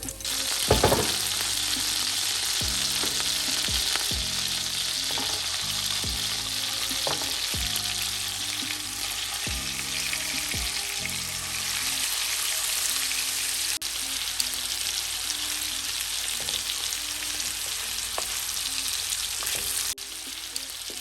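Carrots sizzle and crackle steadily in a hot pan, a dense continuous frying hiss with occasional stirring clatters and scrapes, loud and close throughout.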